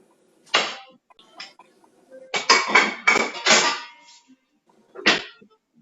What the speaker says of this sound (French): le temps que je prenne la casserole